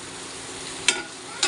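Fried eggs in a spiced masala being stirred in a hot pan, a continuous close sizzle broken by two sharp spoon scrapes.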